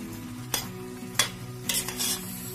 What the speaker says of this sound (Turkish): Arkadaşlar yaklaşık 6 dakikadır kaynıyor ıspanak.